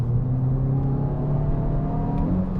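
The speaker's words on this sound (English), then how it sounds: "it's like some ghost pressed the throttle and blipped it" A Hyundai i20N hot hatch idling by itself gives a sudden unprompted throttle blip, its engine note lifting briefly over a steady low idle hum, fairly close and with no voices.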